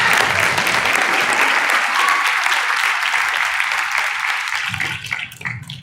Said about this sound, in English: Mr. Avery Beckham, let's give him another round of applause on that